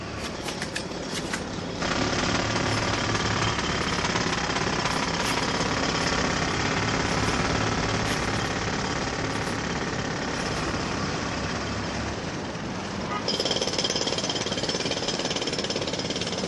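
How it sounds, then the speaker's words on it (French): Jackhammers break up street paving stones, pounding as a loud, continuous rapid hammering that carries through the whole stretch with no talk over it. "Dans la matinée, les marteaux-piqueurs entrent en action."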